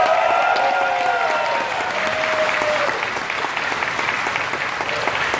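An audience at a winter enthusiast gathering applauds to vote for another wooden roller coaster at an Alabama theme park, loud sustained clapping mixed with a few cheers and whoops, steady throughout.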